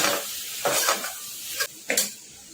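A spoon scrapes through a sizzling mix of veg biryani masala, Kitchen King masala and Kashmiri red chili in a frying pan for cracked wheat khichdi, with a few brisk close stirring strokes over a soft sizzle.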